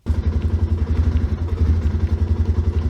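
A small lawnmower tractor engine runs close by with a loud, steady, throbbing chug and a regular pulsing rhythm, with no talking over it.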